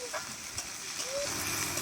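Grated garlic hits hot oil along with tomato and chillies, giving a steady close sizzle and hiss that runs unbroken for under two seconds with no talking.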